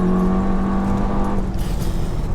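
A Stage 2 Seat Leon Cupra making around 402 bhp, accelerating hard in third gear, a loud close engine drone with a whine that rises and then drops away as the car pulls.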